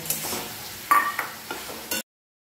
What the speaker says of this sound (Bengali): এবারে কষা হয়েই গেছে মোটামুটি, আমি ডিমটা দিয়ে আর একটু কষে নেব।